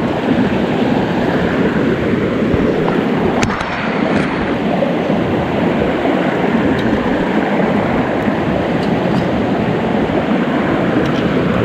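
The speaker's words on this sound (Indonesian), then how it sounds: "Dekat tepi sungai, atas sungai." A river flows beside a riverside campsite, making a loud, close, unbroken rush of water with a faint brief knock partway through, and no voices.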